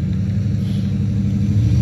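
A car passes on a nearby road as a loud, continuous low rumble that stays steady across the moment, with no voices over it.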